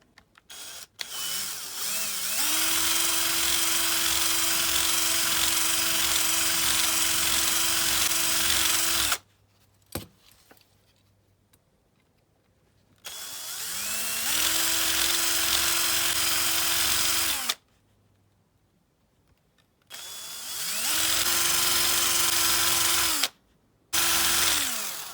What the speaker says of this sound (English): we have had the grinding wheel on just a little bit there